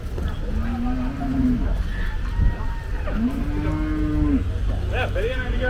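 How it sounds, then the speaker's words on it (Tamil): A native breed bull at the Kundadam cattle market gives two long, drawn-out moos a few seconds apart, close and clear, over a busy background of market noise and distant voices. "நாட்டு மாட்டு காளை"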